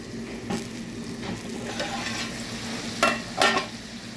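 Chicken pepper fry stirred in a pan, a steady sizzle with a few louder scrapes of the spoon against the metal near the end, close and alone.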